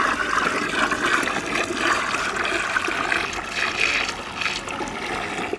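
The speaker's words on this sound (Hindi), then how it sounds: "तो हम लिक्विड सीवीड को मिलाने वाले हैं और इसको भी हम ठीक तरीके से मिक्स कर लेते हैं" Liquid seaweed extract poured and stirred into a homemade organic fertilizer mix, a steady rushing, splashing flow of liquid that continues close and fairly loud throughout.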